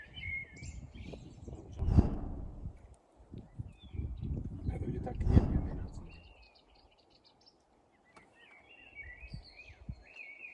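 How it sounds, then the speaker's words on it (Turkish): Birds chirp in short, scattered bursts in the background, while louder thumps and some talking sit underneath. "Kuş sesleri kalpten."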